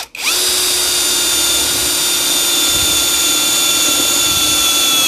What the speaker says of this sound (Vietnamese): Đây, mình cứ để lên khoan đi, tại vì tải này là tải nặng rồi.